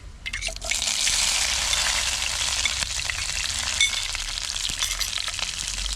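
Garlic and green chillies with popped mustard seeds sizzle in hot oil, a steady close crackling hiss with occasional pops and stirring scrapes.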